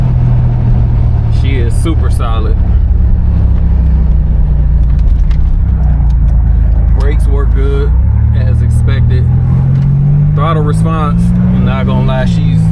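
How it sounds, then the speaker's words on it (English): A 1987 Buick Grand National's turbocharged engine is heard up close as it accelerates, its loud low engine tone rising in pitch in steps as it pulls, while someone talks over it. "You can hear that turbo."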